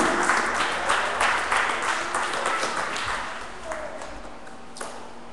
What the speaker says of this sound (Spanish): ¿Le puedes dar un aplauso al Señor?